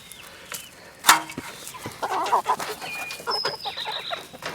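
Chickens on fresh grass cluck softly in a loose, irregular scatter of short calls, with a single sharper squawk early on and light rustling around them.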